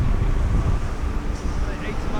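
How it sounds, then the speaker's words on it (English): Strong winter wind gusts buffet a cottage, a dense low rumble of microphone wind noise that swells and eases, loud and close, over a couple of seconds. "Like 80 mile an hour gust."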